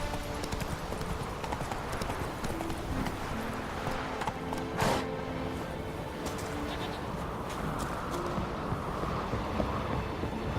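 Horse hooves clip-clopping at a steady quick rhythm in The Witcher 3, mixed with ambient bird cooing and chirps over a continuous game soundscape.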